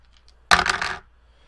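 Dice rolled onto a tabletop during a tabletop battle game, one short clattering burst of rattling impacts lasting about half a second in an otherwise quiet room.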